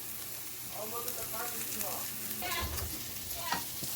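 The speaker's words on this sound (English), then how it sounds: "My second pan here turned out perfect. You can hear it sizzling." Steady crackling sizzle of pork chops frying in a pan, close up, with faint voices murmuring in the background.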